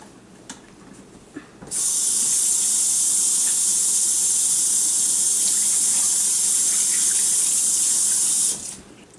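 A kitchen tap runs for about seven seconds as hands are washed under it, a loud steady hiss and gush of water beginning abruptly and stopping cleanly, preceded by a few faint clicks.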